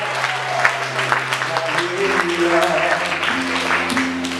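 An audience at a French-language church gathering claps and cheers in continuous applause, while a voice and sustained tones carry on over the crowd.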